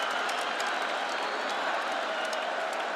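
Arena crowd at a fight in an octagon roaring and applauding in a steady, dense wash of cheers and clapping that fills the whole stretch without letup.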